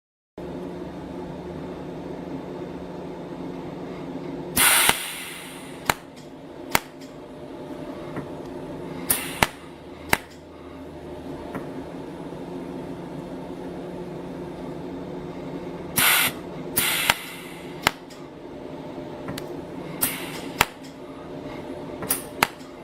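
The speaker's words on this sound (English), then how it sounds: "Perform welding with the electrode positioned vertically between the welded edge and the protruding welding rod." An SW-V02 mold repair welding machine welds with an electrode against a steady hum, with intermittent sharp clicks and short bright bursts of discharge spread across the span.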